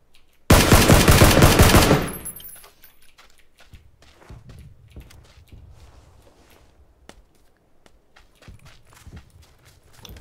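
A loud burst of rapid automatic Uzi gunfire in the video game PlayerUnknown's Battlegrounds lasts about a second and a half, followed by scattered clicks, thuds and footstep-like knocks in a quieter space.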